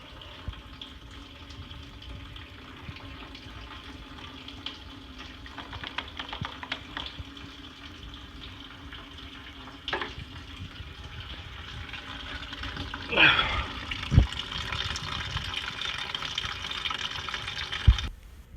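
Coolant draining from a Chevy Trailblazer radiator, a steady low trickle and splash running throughout, with occasional clicks and knocks of nearby work, faint and without talk.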